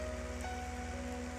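Rain falls steadily on a tractor driving downhill during spring sowing, a soft constant patter over the low, even drone of the engine, with no talk.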